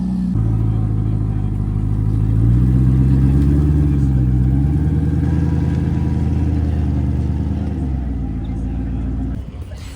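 Road-legal Porsche 935 engines idle and rev as a group of cars waits to head out on 17 Mile Drive, a steady, loud, close rumble with rising and falling engine tones throughout, while voices talk faintly underneath.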